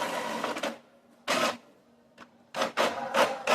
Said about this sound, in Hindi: तो A4 में तो ये प्रिंट आउट हो रहा है बोथ साइड ऑटोमेटिक।